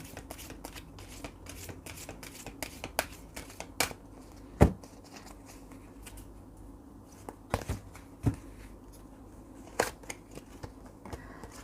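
Romance Angel oracle cards being shuffled by hand, a steady run of soft papery riffles and flicks punctuated by a few sharper snaps, close and quiet with no voices.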